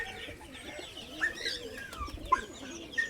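Pigeons coo steadily at a rooftop pigeon loft, soft rolling calls layered with a few sharper chirps over a faint outdoor background.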